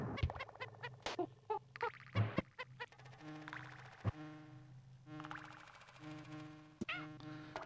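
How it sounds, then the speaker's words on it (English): A cartoonish bird call from a Mario platform game, bright chirping and clucking notes repeated in quick bursts over bouncy game music, with no talking. "I forget that bird's there."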